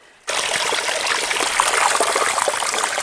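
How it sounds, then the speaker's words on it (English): Mountain spring water trickling and splashing steadily along a hiking trail between Springer Mountain and the North Carolina line, a close, continuous babbling flow that starts abruptly after a brief quiet moment. "that water's coming straight out of the mountain"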